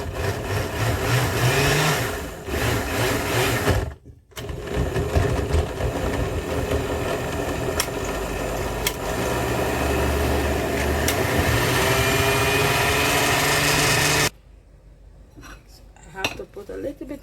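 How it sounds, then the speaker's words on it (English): A blender whirs steadily, processing cut green plantain with water, running loud and continuous for about ten seconds before stopping abruptly, with clinks of kitchenware before and after. "I'm going to pour some water into this so I could start blending."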